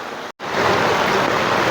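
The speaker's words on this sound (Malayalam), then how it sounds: "റോഡ് തോടായ അവസ്ഥയിലാണ്." Floodwater rushing along a road in the middle of Vadakara town after heavy rain, a loud continuous wash of water, briefly cut by a gap near the start.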